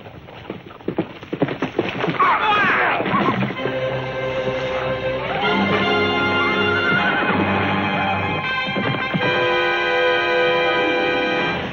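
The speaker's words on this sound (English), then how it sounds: "Terry will jump and knock Glenn and the horse to the ground." A horse whinnies loudly and falls to the ground during a film stunt, amid a dense wash of sound, with rumbling and thudding beneath, the din continuing steadily for several seconds.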